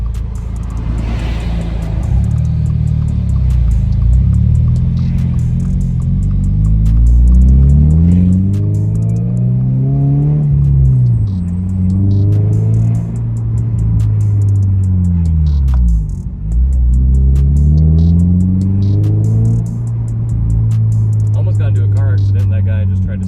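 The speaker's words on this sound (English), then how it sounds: "This thing pops so much." A Subaru BRZ/GR86 rumbles loudly while driving, its engine droning and rising and falling through gear changes, with exhaust pops and crackles on lift-off mixed into the steady low rumble.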